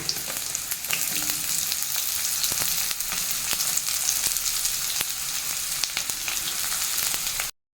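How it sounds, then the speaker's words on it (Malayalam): Chopped onion frying in a pan, a loud continuous sizzle dense with small crackles and pops, close up and unbroken until it cuts off abruptly near the end. "അടുത്തതായിട്ട് നമുക്ക് ഒരു സബോള അരിഞ്ഞത് ഇട്ട് കൊടുക്കാം"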